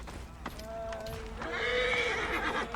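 A horse whinnies twice in the game Assassin's Creed Origins, a short call followed by a longer, louder neigh, with faint hoof clatter and game ambience underneath.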